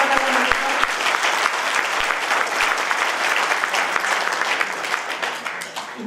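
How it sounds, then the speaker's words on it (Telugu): Applause from an audience at a national pensioners' day event in a hall, sustained dense clapping from many hands for about six seconds, loud and even before easing slightly at the end. "ఒకసారి గట్టిగా చప్పట్లు కొట్టండి."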